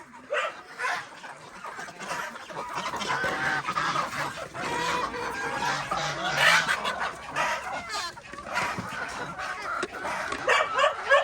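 Free-ranging backyard hens cluck and call around a rural yard, with a dog barking in between; the bird sounds come in irregular bursts, moderately close, and no one speaks.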